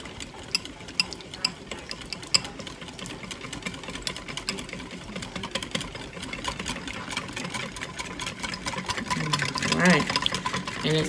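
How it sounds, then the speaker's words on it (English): A whisk beats tahini sauce in a bowl with a fast, continuous rhythmic clicking that grows busier toward the end, heard under a person talking. "let me get my whisk here, and we're just gonna whisk it all up"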